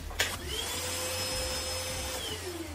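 A Ryobi 18V ONE+ wet/dry cordless vacuum cleaner runs at home with a steady, close whirring hum and a higher motor whine throughout, alone without talk.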